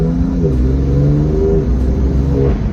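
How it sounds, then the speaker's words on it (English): A modified BMW F80 M3 engine revs hard with quick, crisp dual-clutch gear changes, the pitch dropping and climbing again, loud and close. "being a dual clutch transmission, it does shift incredibly quickly"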